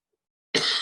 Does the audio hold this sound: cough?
yes